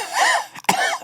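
A voice imitates a cough, two harsh rasping bursts close up with a brief catch between them.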